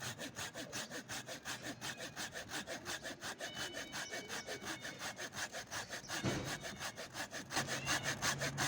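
Rapid, rhythmic back-and-forth strokes of a hand saw biting through a grapevine trunk, close and steady, continuing without pause.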